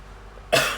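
A single abrupt cough bursts out after a quiet moment, close and fairly loud, from a person painting vegetables at home.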